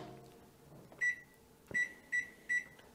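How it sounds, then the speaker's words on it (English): A kitchen microwave oven cooking in a lidded container, heard as a faint running hum followed by four short, bright beeps spaced unevenly near the end. "we're going to cook them in the microwave"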